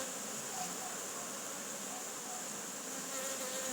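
Honey bees buzzing around hive frames during feeding of bees gathered to stock nucleus colonies, a dense continuous drone of many bees close by, steady throughout.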